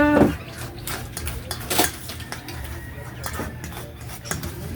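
A utensil stirs a sachet of Milo chocolate malt powder into banana puto cheese batter in a bowl, making close clinks and scraping knocks against the side in an uneven rhythm.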